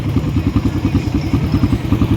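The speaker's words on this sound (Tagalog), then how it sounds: "Tahimik pa ng makina nya." A Kawasaki KLX 140 dirt bike engine idles close by with a steady, rapid, even putter and no talking.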